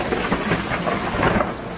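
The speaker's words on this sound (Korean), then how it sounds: "구름이 몰려오더니 비가 오기 시작했습니다" Thunderstorm with steady heavy rain, a continuous dense wash of falling water with low rumbling thunder beneath it, loud and close throughout with no voices.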